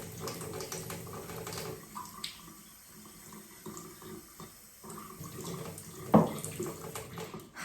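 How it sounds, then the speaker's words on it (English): Tap water running from a faucet into a cup, a steady close-up stream that swells and narrows over several seconds, with a brief louder splash near the end. "And now a cup with normal tap water"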